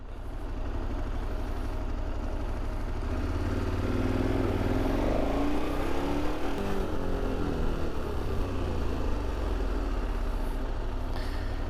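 A KTM 1290 motorcycle engine, fitted with a Rekluse Radius X clutch, revs up to 5,000 RPM, a loud close growl whose pitch climbs and sweeps before settling back, steady throughout with no talking.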